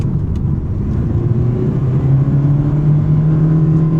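A 2025 Toyota Prius AWD accelerating hard at full power, traction and stability control on, with a steady loud engine and motor drone and a rising whine that climbs over about four seconds, no talking.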